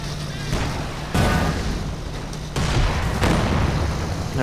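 Heavy explosions destroy units in Company of Heroes 2, with loud booming blasts landing near 1 second and again around 2.5 seconds over steady battle rumble, while a voice talks throughout.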